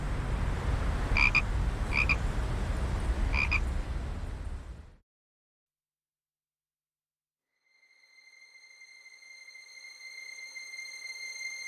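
Frogs croak in a dense, continuous chorus on the bank of the Vistula river, with a few sharper calls standing out, then a sudden silence before a steady tonal hum rises.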